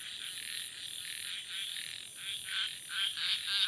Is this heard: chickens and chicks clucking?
no